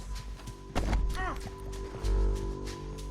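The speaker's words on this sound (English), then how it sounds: "Get him on your horse." Horse hooves pound in the video game Red Dead Redemption 2, brief close thuds and clip-clops layered with game sound effects and a loud voice.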